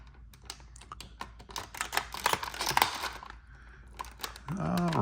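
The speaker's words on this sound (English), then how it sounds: "We're gonna cut these little plastic pieces." Plastic pieces of Transformers Mix Mashers toy packaging being cut free: a run of close, crisp clicks and snips in uneven bursts, with a brief voice-like tone near the end.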